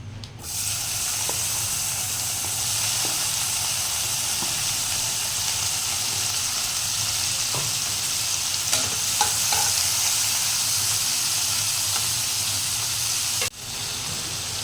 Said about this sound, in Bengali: আমি এখানে চিংড়ি মাছটা প্রথমে ভেজে নিচ্ছি।